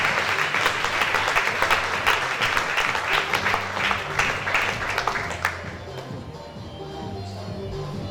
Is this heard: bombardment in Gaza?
no